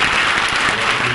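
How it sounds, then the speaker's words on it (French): Congregation applauding a choir at an Assemblies of God church service, a brief loud wash of steady clapping from many hands with no talk over it. "À nous applaudir cette chorale."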